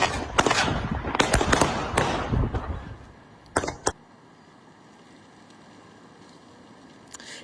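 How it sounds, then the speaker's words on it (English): A rapid burst of sharp pops and cracks fires in quick succession, followed by two more isolated bangs, then fades to a quiet hiss. "You hear multiple pops from the gun"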